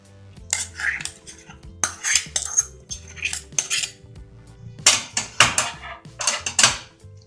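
A spoon stirs tempering into a bowl of curd rice, clinking against the dish in quick, rhythmic bursts separated by brief pauses, close and clear with no speech.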